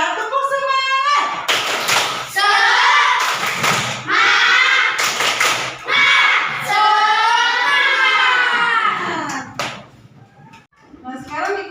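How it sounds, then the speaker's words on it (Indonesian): A classroom of students performs a rhythmic 'tepuk semangat' spirit clap, with bursts of loud, patterned clapping alternating with children's chanting voices, close and energetic throughout. "Tepuk semangat."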